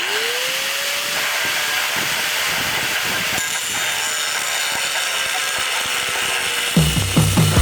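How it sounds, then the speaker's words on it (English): An abrasive cutting wheel slicing through metal intercooler piping for a turbocharged 1.8 Chevy Cruze, a loud, steady high-pitched grinding whine running continuously, with a rising spin-up at the start and brief knocks near the end. "we're gonna start out with the fresh cutting wheel"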